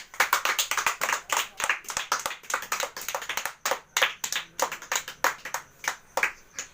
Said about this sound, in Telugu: వెరీ గుడ్, క్లాప్స్ కొట్టండి గణేష్కి అందరూ